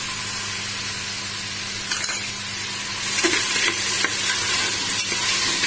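Ginger and garlic fry in a pan with a loud, continuous sizzle that swells partway through as they are stirred, with light utensil scrapes close up.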